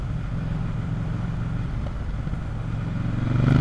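A KTM 890 Duke R motorcycle with an Akrapovic exhaust rides at low revs, giving a steady, deep engine thrum up close that swells slightly louder near the end.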